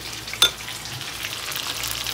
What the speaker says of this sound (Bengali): তো এই পাশে বাটা মাছ ভেজে নিচ্ছি